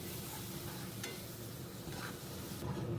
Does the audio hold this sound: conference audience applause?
no